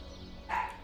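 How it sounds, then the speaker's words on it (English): A pet dog barks once or twice in the background of a home gaming setup, a short, faint yip rising briefly above a steady room hum. "Sorry, you can hear my dog."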